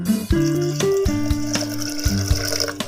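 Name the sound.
water poured onto washed horse gram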